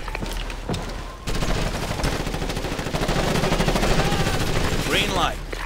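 Rapid automatic gunfire crackles in the Ghost Recon Advanced Warfighter video game, sustained bursts after a short pause, loud and dense with game sound effects layered over it.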